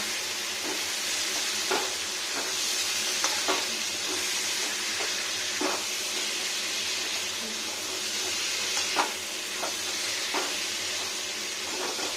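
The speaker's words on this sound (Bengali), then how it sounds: "এখন কি সুন্দর ভাজা ভাজা চিকেনটা হবে" Steady, close sizzling of chicken frying in a pan, with occasional scraping stirs and soft clinks against the cookware.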